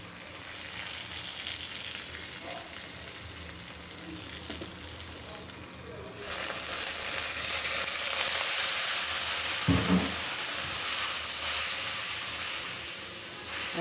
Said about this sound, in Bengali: এখন মশলাগুলি দিয়ে দিচ্ছি।